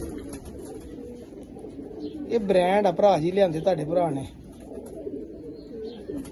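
A pure Sakhi Patti Sahib teddy pigeon of a desi breed coos in a rolling, repeated burst at close range, alongside someone speaking over it.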